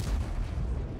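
A tank cannon fires in the World of Tanks video game, a heavy, loud boom with a dense low rumble that fills the whole moment without any voice over it.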